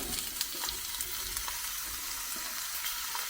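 Eggplant pieces dropped into a hot pan fry with a steady, faint sizzle and a few soft scraping stirs, close by with no talking.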